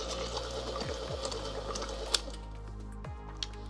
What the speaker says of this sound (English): now we're going to put it on second speed and paddle it around again